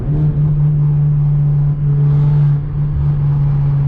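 Stock Honda Civic Type R FK8 with antilag and a blown-out catalytic converter, its exhaust droning in a steady, loud, raspy rattle close by, easing and swelling slightly with no talk over it.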